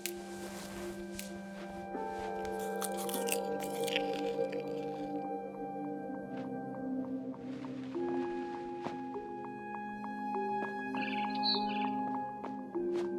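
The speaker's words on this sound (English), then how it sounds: "Then I heard chirping outside my window." A barn swallow chirps outside a window in the game What Remains of Edith Finch, with a few small bird calls standing over layered sustained music tones, faint and set back in the mix.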